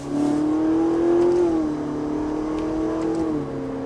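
A car pulls away during a driving lesson with its engine humming steadily and rising gently in pitch, close and alone with no talk.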